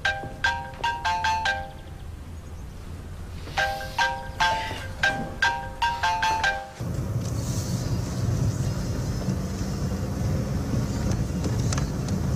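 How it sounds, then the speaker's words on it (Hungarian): A mobile phone ringtone chimes in repeated bursts of bright melodic tones, pausing and resuming, then gives way to a steady rumbling background in a Turkish thriller drama scene. "csörög a telefonja."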